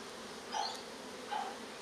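Honey bees buzz faintly around an opened beehive during queen-rearing preparations, with two short, slightly louder hums standing out against a steady quiet background drone.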